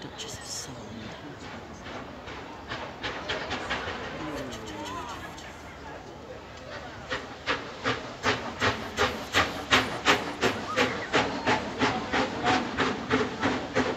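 Steam locomotive Duchess of Sutherland lets out a loud hiss of steam that turns into fast, rhythmic exhaust chuffs building in strength as it pulls away, with people talking over it.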